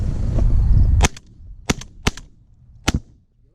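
Shotgun blasts fired at city pigeons: four loud, sharp reports spaced about a second apart, each with a short echoing tail, after a brief stretch of low rumbling background.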